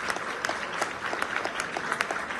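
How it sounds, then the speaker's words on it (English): Dense, continuous clapping from a crowd after a dance company performance, bright and fairly loud, with no voices standing out. "Big round of applause."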